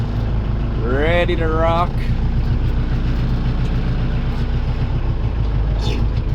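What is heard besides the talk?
homemade firewood processor engine running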